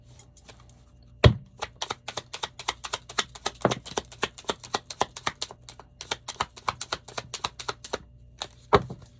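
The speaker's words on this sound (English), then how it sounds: "let's pull some cards for you." Tarot cards are drawn and handled in a long run of quick, crisp taps and flicks, close and clear, with a few heavier thumps spread among them and no talking.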